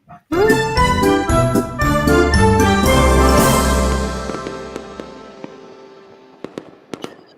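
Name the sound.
fireworks sound effect with theme song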